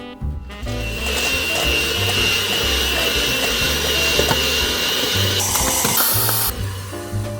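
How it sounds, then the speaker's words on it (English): Electric hand mixer whipping eggnog ingredients in a bowl, a loud steady motorized whir with shifting pitch and scraping rattles throughout, close and continuous. "I'm using this hand mixer because I don't have a stand mixer"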